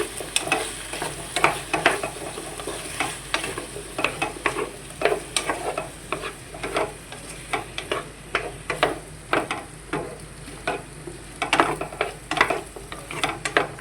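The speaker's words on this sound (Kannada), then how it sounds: "ಚೆನ್ನಾಗಿ ಮಿಕ್ಸ್ ಮಾಡಬೇಕು." Potato and fenugreek leaves frying in a pan, stirred with a spatula in steady repeated scrapes over a continuous sizzle, close and alone without talk.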